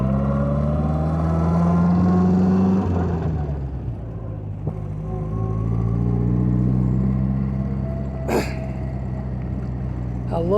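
An MG TF sports car engine pulling through the gears from inside the cabin, revs climbing, dropping at a shift, then building again, with a faint voice briefly heard.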